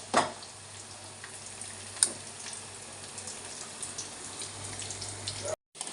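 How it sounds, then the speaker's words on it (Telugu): Bitter gourd fries in peanut oil in a home kitchen for a bitter gourd pickle, a soft steady sizzle with a few louder crackles and a faint low hum, with a voice speaking over it. "మనకు శనగ నూనె కాబట్టి బాగా పొంగు వస్తుందండి"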